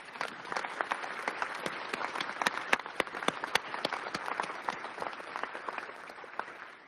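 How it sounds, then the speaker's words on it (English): An audience at a transit agency's State of the Agency address claps steadily for several seconds, dense crisp hand claps with a few sharp louder ones, fading slightly toward the end. "Let's give them another round of applause"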